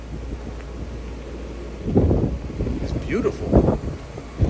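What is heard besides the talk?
wind blowing outdoors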